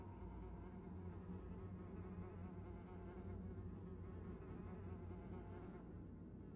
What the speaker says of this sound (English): It's just a bunch of bugs buzzing around in this dead people's attic.